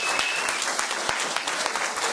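Audience applause for carnival queen candidates fills the space, a dense steady patter of many hands clapping close by with no let-up.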